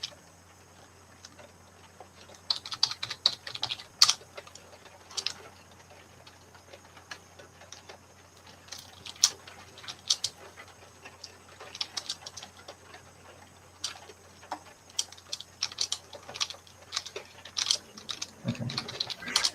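Typing on a computer keyboard during an online community call, quick irregular clicks and key taps scattered throughout, fairly faint and close with no talk.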